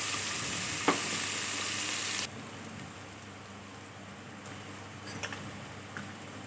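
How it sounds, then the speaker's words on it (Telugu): Cinnamon and cloves frying in hot oil in a pan for chicken curry, a steady close sizzle with a louder stretch at the start, then a softer hiss broken by a few stirring clinks. "చెక్క లవంగాలు కూడా వేసుకున్నాము ఒకసారి కలిపేసుకోవాలి కొంచెం వేగనిద్దాము"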